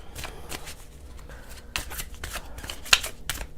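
Tarot cards are shuffled by hand in a series of soft, riffling bursts and paper rustles, with one sharper snap near the end, and no voice over them.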